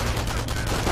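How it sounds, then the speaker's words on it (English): Automatic gunfire in the real-time strategy game Company of Heroes, with dense continuous bursts of weapons fire that fill the whole second at a steady, loud level. "Taking automatic fire!"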